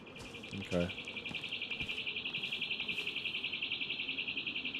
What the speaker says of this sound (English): That is the longest bird song I've ever heard.